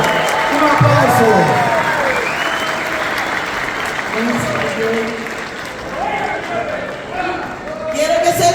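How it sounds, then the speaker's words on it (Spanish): A rally audience supporting Nayib Bukele applauds a singer with sustained, dense clapping and scattered cheers, continuing steadily under someone speaking over a microphone. "Fuerte el aplauso para ella."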